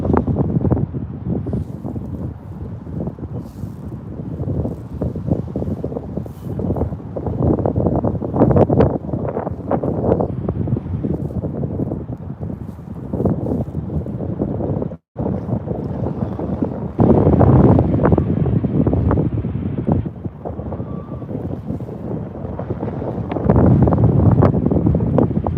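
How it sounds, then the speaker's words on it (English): Strong wind buffets the microphone outdoors at Birmingham airport, a loud, continuous rumbling roar that surges and eases in gusts with a brief dropout midway, no voices. "Guys, very windy today. The wind is very loud."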